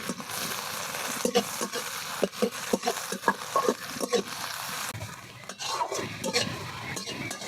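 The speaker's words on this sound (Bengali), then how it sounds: "পেঁয়াজটা কিন্তু আমি ভালো করে ভেজে নেবো" Chopped onions fry in a pan with a steady sizzle, while a spatula scrapes and knocks against the metal in an irregular stirring rhythm, fairly close.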